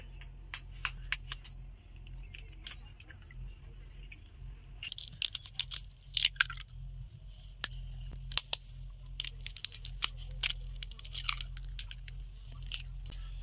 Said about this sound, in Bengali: আমি এবার একটা কাঁটা চামচের সাহায্যে ডিম আর তেলটা ভালো করে ফাটিয়ে নেব।